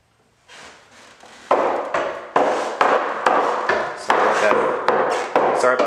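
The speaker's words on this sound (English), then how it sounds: "Sorry about that noise, we're still doing some construction." Construction work inside a house: a series of sharp, loud hammer-like knocks and bangs in irregular rhythm, close by and echoing in a room, with no speech over them.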